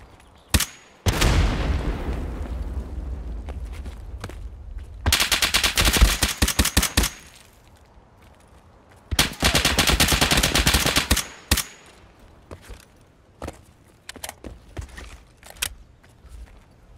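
An M1A rifle in Escape From Tarkov fires in loud, close bursts of rapid shots: a single crack, then long sustained volleys around the middle, followed by scattered single shots with quiet gaps between.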